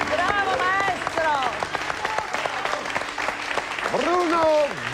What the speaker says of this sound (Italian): E questo applauso la ringrazia per la sua presenza.